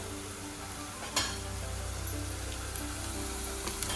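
Onion fries in a pan with a quiet, steady sizzle and crackle, plus one brief louder clatter near the start.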